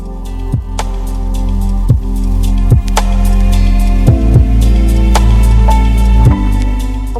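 A sewing machine stitching the side seam of a night dress made from a lungi, a loud, steady motor hum close by, broken by slow, recurring dull thumps, with no voices.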